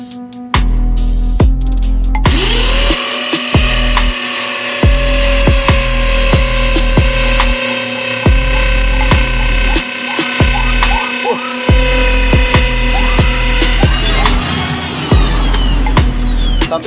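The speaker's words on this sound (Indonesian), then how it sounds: "kayunya keras jadi kita bor dulu." A power drill grinds steadily into dense cempedak hardwood for a long stretch, its whine wavering as the bit bites and slows, with rhythmic knocks underneath.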